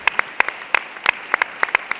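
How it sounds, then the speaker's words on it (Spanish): Audience applause at the closing of an international congress on cooperative physical activities, a scattered, crisp clapping with uneven sharp hits, moderately close and steady throughout. "Un aplauso enorme venir aquí."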